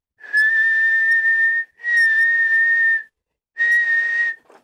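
A person imitates Gandalf's call to the horse Shadowfax with three long, clear, loud whistles, each held steady, separated by short silences.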